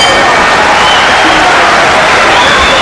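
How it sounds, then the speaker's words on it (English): A boxing arena crowd buzzes loudly with appreciation, a dense wash of cheering and clapping filling the space continuously, with no single voice standing out. "Listen to the crowd."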